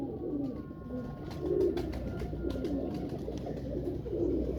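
Pigeons coo softly and repeatedly nearby, low throaty calls rising and fading over a faint background hum, with no talking.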